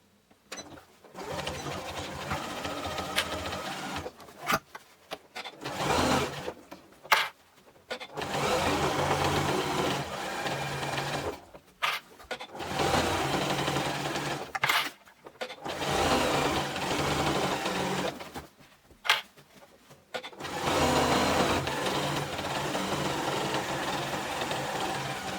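Sewing machine stitching around the top of a fabric box, running in several bursts of steady whirring separated by short pauses, close and clear.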